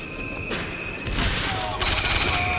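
Gunfire in the video game Bioshock Infinite, a fusillade of shots that builds to a denser, louder burst in the second half, with game effects and music-like tones running underneath.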